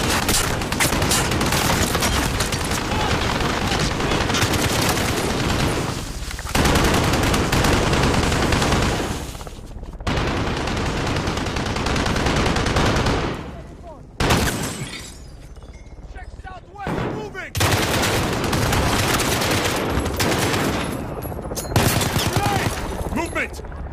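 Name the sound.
enemy machine gun fire in the video game Call of Duty: Modern Warfare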